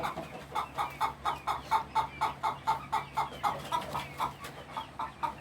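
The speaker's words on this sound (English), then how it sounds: "I have one hen in there throwing a fit" A single agitated hen clucking inside a chicken coop, a rapid, regular run of loud, evenly spaced clucks close by, with no other sounds over it.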